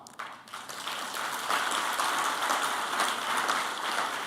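A crowd at a launch event breaks into applause. Scattered claps quickly swell into sustained, even clapping that sounds fairly distant, with no speech over it.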